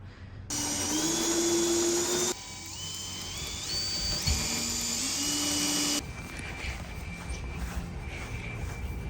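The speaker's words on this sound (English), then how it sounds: "the hole so our drill bit has an easier time figuring out where it needs to go" Power drill boring a hole while framing out a Ford Transit camper van, with a loud, steady high-pitched motor whine that shifts pitch in stages, then drops to a lower hum for the final few seconds.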